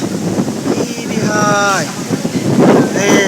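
Strong storm wind roars and buffets the microphone, a loud rushing noise that continues while people talk over it.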